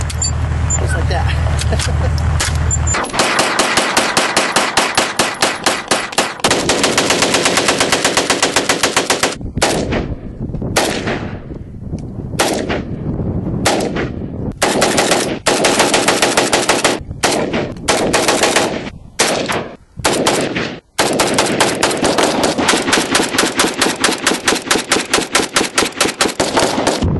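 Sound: AK-47 rifle firing rounds

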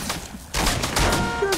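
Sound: gunfire in video game Fortnite

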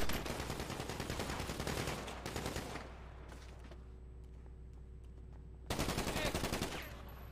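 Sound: gunfire in a video game heist

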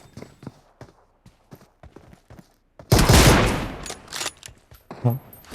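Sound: pistol gunfire in video game PUBG Mobile

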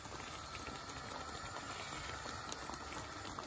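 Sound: water with yogurt boiling in a pot

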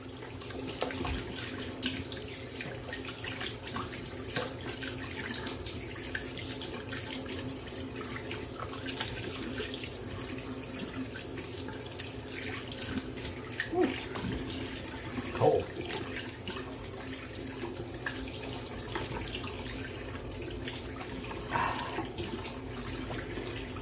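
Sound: water running from tap, rinsing off soap

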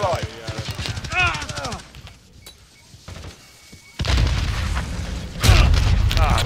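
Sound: grenade explosion and gunfire in Call of Duty: Modern Warfare video game

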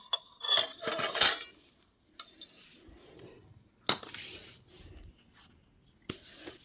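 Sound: cutting sesame-peanut chikki into pieces in a pan

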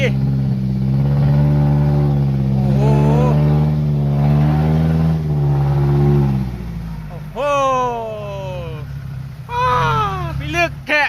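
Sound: vehicle engine revving with wheels spinning on muddy laterite

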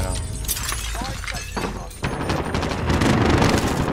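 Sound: gunfire in a video game

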